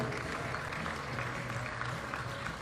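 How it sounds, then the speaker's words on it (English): Applause from spectators at a women's compound archery gold final, a steady wash of clapping heard faint and distant with a low hum beneath it. "And another applause for Toja Ellison"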